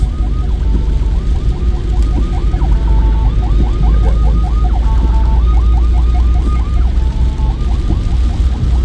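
A warbling ambulance siren repeats in regular rising sweeps over heavy low traffic rumble, steady and fairly loud throughout.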